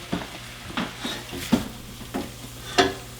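Sloppy joe ground meat frying in a pan while a utensil breaks it apart, a soft sizzle under five or six distinct scraping strokes spaced roughly half a second apart, close and clear.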